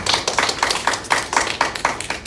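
Clapping from a high-school youth group at a Sunday worship service welcoming newcomers, a fairly small group beating out a steady, rhythmic pattern of sharp, close claps.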